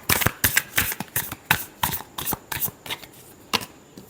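Tarot cards being shuffled by hand in a run of about a dozen crisp, papery riffling bursts at an uneven rhythm, close and fairly loud, with no voices.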